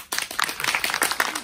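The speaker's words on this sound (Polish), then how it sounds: "wielkie brawa dla tych, którzy impro już widzieli" Audience applause at an improvised Shakespeare-style theatre show, a burst of dense, bright clapping that starts abruptly and continues steadily, fairly close and lively.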